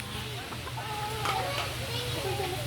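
Chickens cluck in short bursts close by in rural Capas, Philippines, mixed with faint background voices and a steady low hum.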